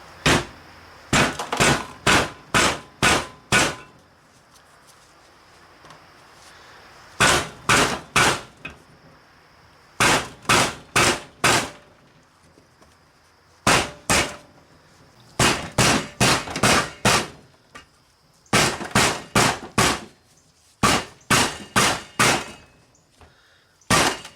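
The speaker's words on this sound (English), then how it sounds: "I'm going to put this on top, smack the top with the hammer" Sharp metallic hammer blows drive a wheel bearing into place on a 2002 Mitsubishi Lancer, landing in quick bursts of four to six, separated by short pauses, close and loud with a faint background hum.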